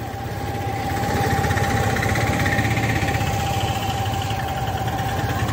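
A Hero Xoom 2023 scooter engine idles steadily after starting, its low, even exhaust note running close and continuous without speech.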